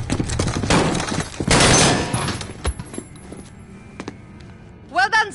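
Gunfire during an ambush in the Modern Warfare campaign, a dense fusillade of shots in the first two seconds, then scattered single shots fading off, with a voice speaking briefly near the end.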